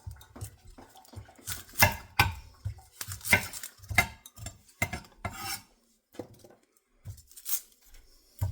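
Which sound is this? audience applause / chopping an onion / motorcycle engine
chopping an onion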